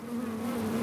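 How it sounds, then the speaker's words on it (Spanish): Bees buzz at a honeycomb in a hive, a steady, close, dense drone that lasts less than a second. "Ahí está saliendo una abeja."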